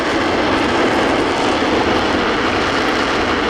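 A J-20 fighter's jet engine in a flight simulator game, running on one engine, gives a steady, loud, unbroken roar that holds for the whole stretch.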